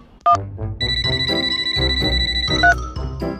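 A phone ringtone plays a bright, repeating electronic jingle of tinkling tones, loud and close, sounding alone with no talk.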